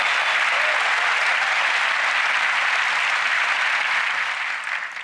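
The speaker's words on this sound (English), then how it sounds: "A round of applause as she retakes her seat" Dense studio audience applause on a magic TV show fills the whole stretch, loud and sustained, fading slightly at the very end.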